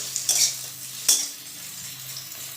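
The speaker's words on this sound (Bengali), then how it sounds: "তো এখন এগুলো ভাজা ভাজা হচ্ছে।" Ghugni ingredients with fresh coriander leaves fry in a pan, a soft sizzle heard up close under two sharp metal spatula scrapes and clinks against the pan, with no talking.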